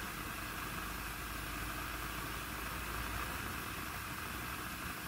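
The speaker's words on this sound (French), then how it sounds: "C'est le bruit de l'objectif" Faint, steady mechanical hum from a camera lens motor, a low constant whir like idling machinery holding evenly under a hiss of background noise with no talk.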